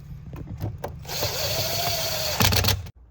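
Power driver running bolts into the rear cargo panel of a 4th-gen Toyota 4Runner, a few short taps and clicks then a sustained close whirring drive that ends in rattling bursts before cutting off.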